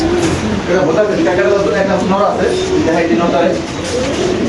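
Black Spanish pigeons coo in low, repeated, throaty rolls close by, several birds overlapping over a dense indoor hum.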